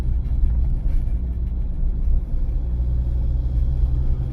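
A car drives steadily in second gear, giving a continuous low engine rumble and road noise from inside the cabin with no speech.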